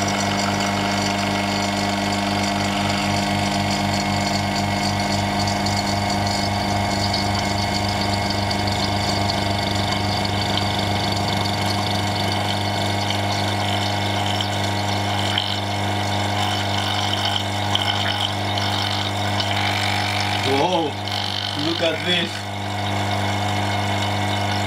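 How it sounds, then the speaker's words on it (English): A vacuum pump running steadily on a chamber holding vodka, a constant droning hum with layered tones throughout, holding level before a brief dip and wobble near the end. "And let's turn on the pump."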